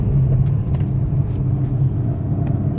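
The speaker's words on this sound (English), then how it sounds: "So I'm just gonna up and down on the throttle lightly." A car engine in first gear revved lightly up and down with a faint rubbing noise, a steady loud low rumble close by with no talking.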